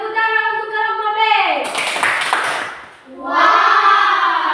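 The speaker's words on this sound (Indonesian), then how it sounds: "Tepuk tangan untuk kelompok B." Classroom applause for a student group, a burst of clapping from about 1.7 to 3 seconds between stretches of a teacher speaking, with children's voices around it.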